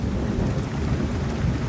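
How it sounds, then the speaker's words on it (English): A Kentucky thunderstorm with steady heavy rain and low rumbling thunder, a dense continuous wash of sound with no voices. "The most intense part of the storm is heading our way right now."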